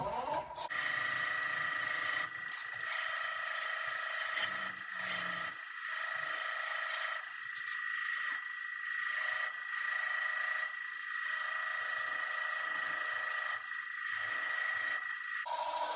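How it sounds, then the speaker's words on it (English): Steady, rasping strokes of sandpaper on a wooden biscuit cutter repeat in a continuous back-and-forth rhythm, close by, with a constant high whine underneath. "I can do sanding on the rest of this in the meantime"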